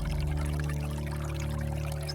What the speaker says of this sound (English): She flipped the tap and let the clean water flow over her hands and face